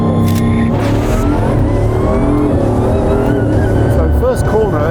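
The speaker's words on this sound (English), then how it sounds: "just pull the limiter off and it just takes off like a rocket" A 1,600-horsepower Bugatti Bolide launching hard out of the pit lane once the speed limiter is released, a loud close engine roar climbing steeply in pitch through the gears, with a voice talking over it.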